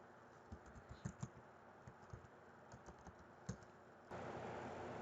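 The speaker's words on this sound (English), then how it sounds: "I'm going to go ahead and type in the type of pollen that there was." Quiet, close computer keyboard typing in scattered light taps and short runs as pollen data is entered, over a faint room hum that steps up near the end.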